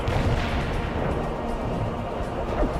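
Abrams tanks firing on enemy tanks in the strategy game World in Conflict, a steady wash of dense, booming cannon and artillery fire rumbling continuously throughout, with faint voices mixed underneath.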